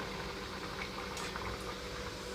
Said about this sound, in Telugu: రెండు వైపులా తిప్పుకుంటూ వేయించుకుంటున్నాను